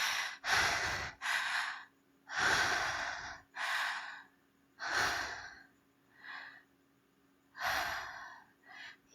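A person takes slow, deep breaths close to the microphone, six long breathy inhales and exhales in an irregular rhythm separated by quiet gaps.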